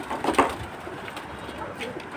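A pigeon coos nearby, with a brief louder burst near the start followed by softer, low murmuring over faint background noise.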